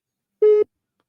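Telephone busy tone after a caller drops off a radio call-in line, a single short steady beep sounding alone against silence.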